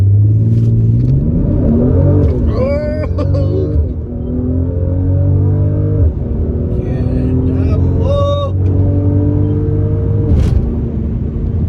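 A Mercedes-AMG GLC 43 Coupe in Sport Plus and manual mode launches hard. Its engine roars loud and close, rising in pitch through several gear pulls with brief dips at the shifts.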